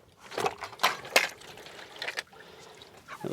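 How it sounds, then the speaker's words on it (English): Water spills from an upturned bucket into a pan at a chicken coop, a few quick splashing gushes followed by softer trickling, close and on its own without talk. "we'll just flip it over inside of the pan, and you can see the water coming out"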